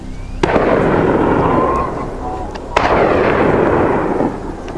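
Two rifle shots from a feral hog hunt on a hillside ring out loud and sharp about two seconds apart, each followed by a long rolling echo across open ground.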